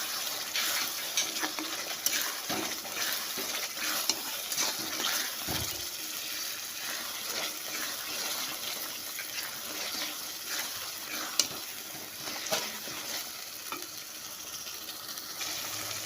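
Fried dried fish being stirred into a chutney in a pan, with continuous soft sizzling and the scrape and clatter of the spoon against the pan, steady and fairly quiet throughout.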